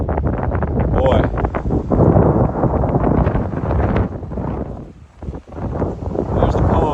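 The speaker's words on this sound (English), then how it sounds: "The wind is ripping." Strong wind blowing outdoors near a pond, loud and continuous broadband buffeting across the mic with gusty surges, briefly dropping near the end before rising again, with a voice speaking over it.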